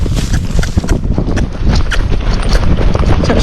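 Tennessee Walking Horse moving into a half canter, hooves thudding in quick rhythmic beats close to the microphone, with heavy wind rumble over it.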